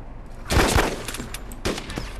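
Video game gunfire: a loud burst of close shots, then scattered quieter shots and another sharp report, with no speech over them.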